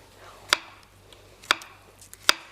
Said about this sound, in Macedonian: Како умешно си го сецкаш ти лукчето.